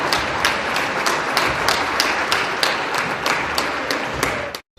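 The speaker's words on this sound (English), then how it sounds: "One more big round of applause for this year's Sweethearts Court and Queen." An audience in a school gym during a boys basketball game applauds the Sweethearts Court and Queen. Steady crowd noise is punctuated by regular, evenly spaced sharp beats, then cuts off abruptly.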